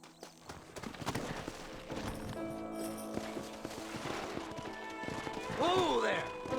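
Horses' hooves clip-clop in the Western video game Red Dead Redemption, a steady trotting patter under loud game music and ambience, with voices talking over it.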